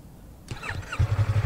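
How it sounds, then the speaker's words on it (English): A motorcycle engine is started: a short starter whir, then a low, rhythmic idle pulsing that settles in, heard close and alone. "Now you can start your bike."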